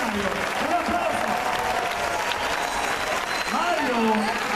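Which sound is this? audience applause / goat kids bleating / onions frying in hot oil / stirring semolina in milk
audience applause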